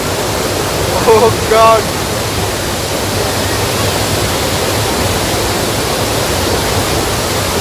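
The Athirapally waterfall in Kerala crashes down with force in a steady, loud broadband roar that fills the whole scene, with a brief exclaiming voice near the start.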